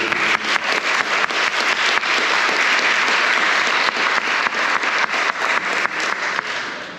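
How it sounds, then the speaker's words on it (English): Senate session members applaud themselves, a room full of hands clapping in a sustained burst with a few sharp individual claps standing out, fading slightly at the end. "I want you to give yourselves a round of applause"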